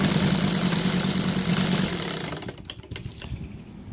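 An OS Sirius five-cylinder radial model engine runs on gasoline with a regular carburetor, giving a steady, fairly loud buzzing drone that eases off slightly toward the end.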